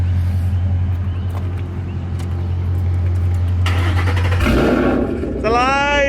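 A retuned Ford Boss 302 V8 idles with a steady low rumble, then catches and surges louder near the end as it comes to life, with voices talking over it.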